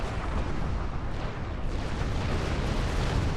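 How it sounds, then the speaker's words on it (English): Torpedoes launching in a space battle in Star Trek Online, a loud, sustained roaring wash of explosive noise with no clear gaps, filling the whole moment. "Torpedoes, there we go"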